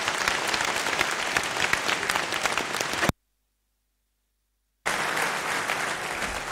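A conference audience claps in a warm round of welcoming applause, dense and sustained, broken by a short gap of total silence before the clapping resumes.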